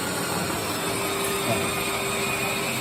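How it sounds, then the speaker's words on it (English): Rotovac 360 carpet cleaning machine with two counter-rotating heads and three high-speed stainless steel vacuums, injecting water and extracting on carpet, a steady loud broadband roar with a faint whine throughout. "We're using the Rotovac 360, which has two rotating heads that rotate in different opposite directions, three vacuum nozzles"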